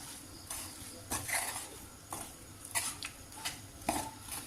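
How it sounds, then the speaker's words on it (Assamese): Coconut and sugar laddu mixture stirred in a pan, with a series of sharp metallic scrapes and clinks of the spoon against the pan at an irregular rhythm. "এতিয়া মোক ধুনীয়াকৈ গোটেইখিনি একদম মিলাই পেলাই লৰাই দিম"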